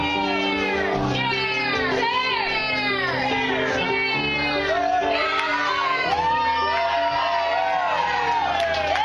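Live audience yelling and cheering together, a loud chaotic crowd of many overlapping voices shouting out choices, with excited higher voices mixed in, continuous throughout.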